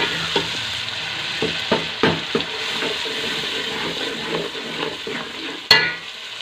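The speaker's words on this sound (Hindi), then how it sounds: "हमने जो टमाटर 1 पाव रखे थे उसको डालेंगे" Tomatoes going into a frying masala, with a continuous loud sizzle and repeated scraping stirs of a spoon against the pan, plus one sharp knock near the end.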